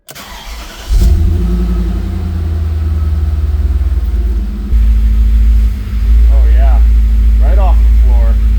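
A BMW M5 with a freshly replaced clutch starts and runs, its engine settling into a steady, loud rumble at close range, the note shifting partway through, with a voice talking over it near the end.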